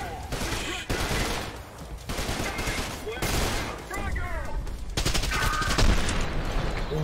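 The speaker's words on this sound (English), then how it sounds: "Dude, this is some cool shooting." Gunfire in the video game Trepang2 at the Pandora Institute comes in repeated loud bursts of rapid shots separated by short pauses, with mechanical clatter and a voice talking over the action.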